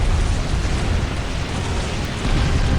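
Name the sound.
heavy weapons explosions in Space Marine video game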